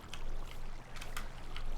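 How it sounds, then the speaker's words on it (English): A video game waterfall pours steadily in a soft, continuous rushing wash with a few brighter splashy bursts, heard alone and fairly quiet. "Wow, that is one heck of a waterfall coming down there."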